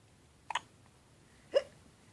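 A young child hiccups twice, about a second apart. Both hiccups are short and sharp, fairly close and alone, over a quiet room background.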